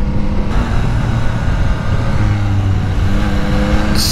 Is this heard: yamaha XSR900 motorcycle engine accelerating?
yes